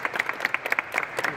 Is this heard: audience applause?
yes